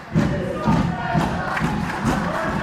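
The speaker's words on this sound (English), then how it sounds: "It sounds to me like this crowd want to see Tommy Dillon here tonight" A wrestling event crowd chanting in unison, a loud rhythmic roar of many voices pulsing roughly twice a second, filling the arena with no single speaker standing out.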